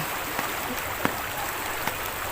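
The current of the Daraitan river rushes in a steady, even wash of water noise, constant and fairly close, with a few faint splashes and no voices.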